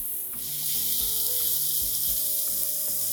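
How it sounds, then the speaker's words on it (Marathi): Ginger garlic paste sizzles in a hot pan, a dense steady hiss that swells after a moment and holds loud and close, with faint tonal hum beneath and no voices. "आल्या लसणाचा कच्चा वास जाईपर्यंत आपण हे परतून घ्यायचे"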